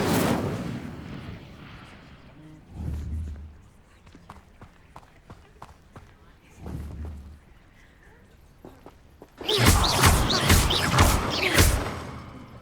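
An Incendio fire spell is cast in the video game Hogwarts Legacy. Muffled thuds and light steps come first, then a loud, roaring burst of fiery crackles fills the last few seconds.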